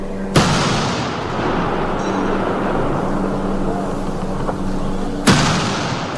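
Two heavy artillery booms of a 19-gun salute at a military funeral ring out about five seconds apart over a constant outdoor rumble of crowd and ambience.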